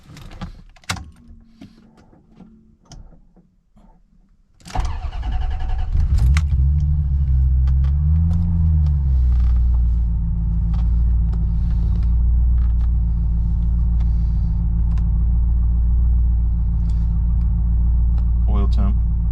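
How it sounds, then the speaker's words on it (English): A 1994 Corvette ZR1 cold start: faint jingles and clicks, then the engine cranks and fires loudly, briefly revs and settles into a steady, deep, close idle. "1994 ZR1 cold startup video."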